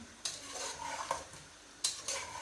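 Chicken and potatoes being stir-fried in a karahi, a soft continuous sizzle with a few scraping strokes of a spoon against the pan, quiet and close.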